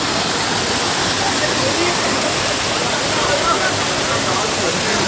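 A waterfall in Goa roars as a loud, steady wash of falling water that fills the scene without break and without any voices.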